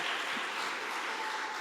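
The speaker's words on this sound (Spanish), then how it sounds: "Den un fuerte aplauso al Señor" A church congregation claps together in steady, diffuse applause that fills the room at moderate volume, with no voice standing out.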